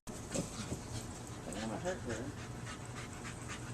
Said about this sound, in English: Dog likes to play fetch with a soccer ball.